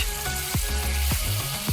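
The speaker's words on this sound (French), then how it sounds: "Je veux entendre ce grésillement." A patty sizzles on a grill with a loud, steady hiss and crackle, punctuated by a few low scraping or pressing thumps, close up and without any voices.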